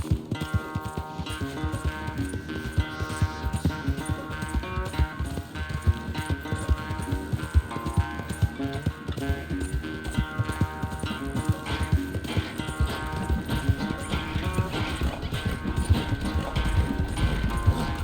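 Horse hooves gallop in a steady clip-clop rhythm in a Western-era video game race, running continuously under a dense bed of music and ambient game sound, moderately loud throughout.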